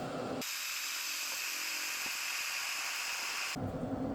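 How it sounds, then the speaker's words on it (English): A Bella electric kettle reaches a full boil, giving a steady loud hiss and rush of bubbling water and steam that starts abruptly, holds evenly for about three seconds, then cuts off. No one talks. "this water is really starting to boil now"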